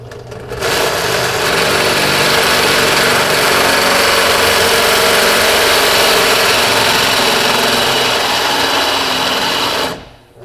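A power drill drilling metal for a Model T wheel whines continuously at high speed for about ten seconds, loud and close, then cuts off.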